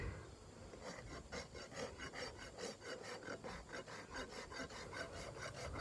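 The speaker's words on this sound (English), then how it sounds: "rasping it on the side of her hoof to bring the wall inward" A rasp files the side of a horse's hoof wall in quick, rhythmic scraping strokes, close but fairly quiet, with no talking over it.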